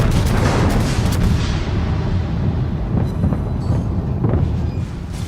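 Warship main guns firing in the naval video game World of Warships, a loud, continuous barrage of deep booms and rumbling blasts with a few sharper reports layered over the battle noise.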